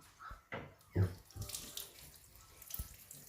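Tap water runs quietly into a sink to wash pandan leaves, a faint, uneven splashing with a few soft knocks and gurgles.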